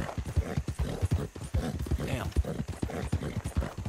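Horse hooves on the ground in the video game Red Dead Redemption 2, a steady rhythmic clip-clop of a riding horse that runs the whole time, close and clear, with someone talking over it.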